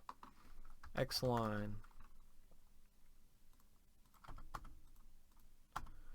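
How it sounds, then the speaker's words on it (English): Computer keyboard and mouse clicks come as sparse, quiet taps during AutoCAD drafting work, with someone speaking briefly near the start. "you guys probably hear me clicking a lot when I'm doing that stuff"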